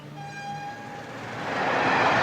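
A train horn sounds with steady tones at the start, then the rumble of a passing train builds and grows louder as it rolls by close at hand.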